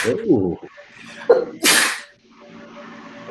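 A single loud sneeze bursts out close by, set between quiet conversational speech before and after.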